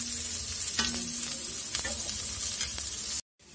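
Vegetables fry in an iron wok for Singapuri chowmein: a steady close sizzle with a few sharp spatula scrapes and clinks, then the sound cuts off abruptly into near silence.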